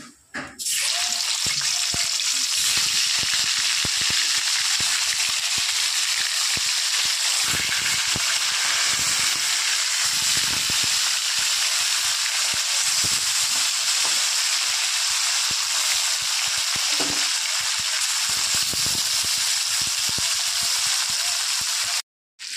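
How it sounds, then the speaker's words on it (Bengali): Pieces of snakehead fish fry in hot oil, producing a loud, continuous hiss and sizzle that holds steady for the whole stretch with no talking. "এবার ওই তেলে বাদবাকি মাছগুলো আমি সব ভেজে নেব।"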